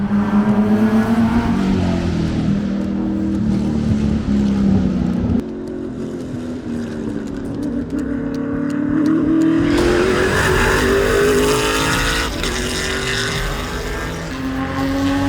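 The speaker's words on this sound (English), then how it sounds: "So that Trans Am car, the white one just passed" A white Trans Am race car at Virginia International Raceway roars past on the circuit, its loud engine note rising and falling through gear changes as other engines drone nearby.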